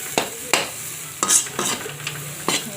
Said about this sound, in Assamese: মিক্স কৰি ভাজি পেলাব আৰু আমৰলিটো ৰেডিয়ে হৈ যাব।